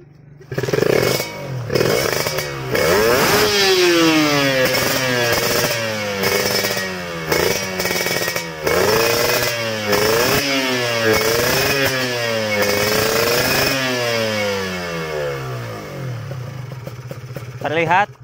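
A motorcycle engine starts after a carburetor needle jet adjustment and revs up and down repeatedly, loud and close with rising and falling pitch, idling unevenly between blips, with no talk.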